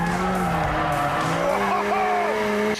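A red McLaren 765LT supercar with a twin-turbo V8 drives hard on a road, its engine roaring loudly and steadily with rising and falling revs as tires squeal.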